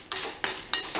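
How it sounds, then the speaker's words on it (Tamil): Dried red chillies and garlic cloves are stirred in a pan, with a few short scraping and clinking strokes of the spoon over a faint background hiss. "இது கூட ஒரு 3 வத்தல் மிளகாய், ஒரு 4 பல்லு பூண்டு அதையும் போட்டு நம்ம வறுத்துக்கலாம்."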